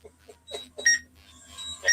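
Short electronic beeps from a landing drone repeat at a steady pace over a low, continuous motor hum, growing a little louder toward the end.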